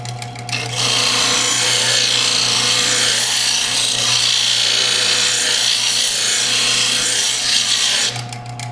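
A power sander grinds the blade of a hunting knife, a loud, continuous abrasive hiss over a steady motor hum that starts abruptly, holds for about seven seconds, then cuts off.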